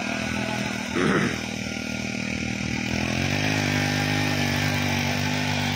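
A small 63cc mini tiller engine runs steadily and close by, a droning two-stroke buzz that briefly swells near the start and then settles into an even, sustained hum for the rest.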